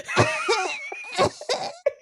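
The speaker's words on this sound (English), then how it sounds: "it ends with a cough" A close, fairly loud vocal sound with a whiny, drawn-out tone and breathy bursts, finishing with a short, sharp cough.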